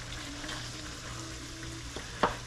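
Taco meat sizzles steadily in a covered pan at a low, even level, with a single sharp clink of a utensil or lid near the end and no talking.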